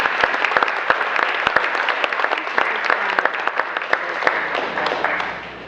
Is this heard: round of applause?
yes